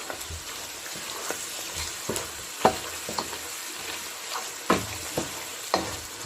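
Masala for aloo gosht fries in a pot, giving a continuous soft sizzle broken by intermittent stirring scrapes and clacks of a spoon, close up and fairly quiet, with no voices.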